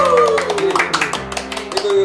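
Hand clapping by the hosts of a Korean talk show, a short burst of sharp claps that briefly drowns out a steady background tone and voices.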